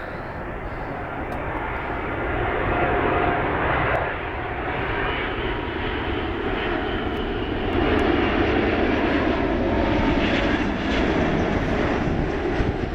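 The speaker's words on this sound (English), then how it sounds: "Airways Boeing 777-200 LR coming into Dallas." A Boeing 777-200LR with GE90 engines landing, its loud, steady jet roar filling the whole stretch and swelling twice toward the end, with no speech over it.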